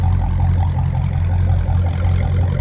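A Mopar car engine runs steadily nearby, a deep low rumble with a constant loud drone throughout and no talking.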